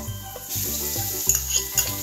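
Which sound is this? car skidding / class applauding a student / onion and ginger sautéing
onion and ginger sautéing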